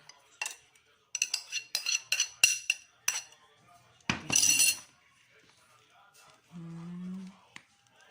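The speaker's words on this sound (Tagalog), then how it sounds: "haluin na natin siya" Banana cake batter with egg and mashed banana is stirred in a bowl, giving a run of quick clinking utensil taps against the dish, then a brief scrape and a short low hum.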